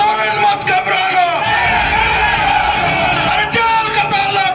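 A dense crowd at a Jharkhand political rally for Hemant Soren chants slogans together in loud, sustained unison, many voices blending into one continuous roar close by.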